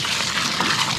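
Water poured by hand into a concrete mix, a steady broadband splashing gush lasting about a second, fairly loud and close with no voices.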